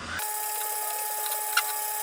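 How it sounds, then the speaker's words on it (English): A power drill whines steadily for about two seconds as it bores into 2x4 lumber while a mini skate ramp is being built, a close, continuous tone with no talking. "I'm gonna help him drill this stuff so that it goes by quicker."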